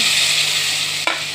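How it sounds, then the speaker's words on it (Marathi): Stuffed eggplants fry in oil, giving a loud, close, steady hiss and crackle that is broken by a brief knock or stir near the end. "वांगी थोडी भाजलेली आहेत आता तेलामध्ये."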